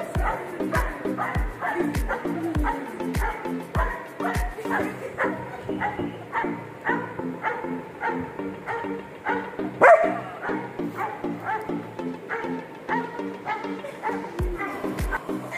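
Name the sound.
German Shepherd puppy barking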